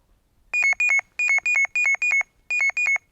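A Carp Sounder intrusion alarm on a stake sounds in repeated bursts of bright, two-tone beeps, each burst a quick double chirp, repeating rhythmically with a short pause before the last pair.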